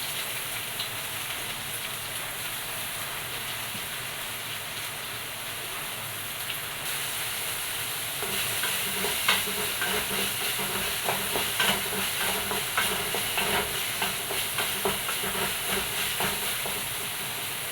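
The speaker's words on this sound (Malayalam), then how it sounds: "അതിലോട്ട് ഇതാ വെണ്ടയ്ക്ക ഇങ്ങനെ കട്ട് ചെയ്തത് അതെടുത്ത് കൊടുക്കാം ഒന്ന് വഴറ്റി എടുക്കണം" Cut okra sautéing in a pan, a steady close sizzle and hiss with faint stirring scrapes and crackles growing busier in the second half, with no talking.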